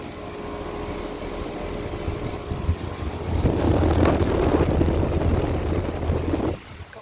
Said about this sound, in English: Scroll compressor.